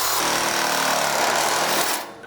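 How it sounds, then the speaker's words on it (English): Reciprocating saw with a metal-cutting blade cutting through a tube during a Husky Brute Super Foot install, a loud, close, rapid buzzing rattle lasting about two seconds before it stops. "We used a reciprocating saw with a metal cutting blade to cut the tube."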